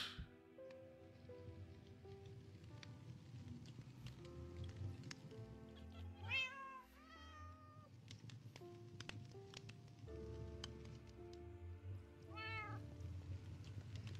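Cats in Aquatic Survive meow over a soft ambient game background, with two clear rising meow calls a few seconds apart and fainter tonal cues between them, all quite quiet.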